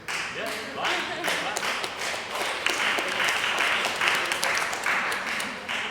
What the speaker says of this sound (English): But that is a lopsided applause.